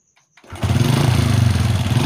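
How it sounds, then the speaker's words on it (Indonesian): A motorcycle engine, fitted with a repaired spark plug, cranks with a couple of brief clicks, then catches and settles into a loud, steady, rapidly pulsing idle close by. "Oke kita coba starter kembali"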